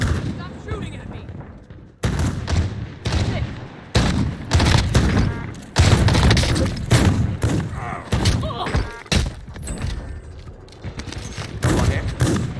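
Rapid bursts of gunfire and heavy thuds from the video game Warzone Rebirth, with shotgun and sniper shots cracking loudly and repeatedly in close succession, while a player talks over the firefight.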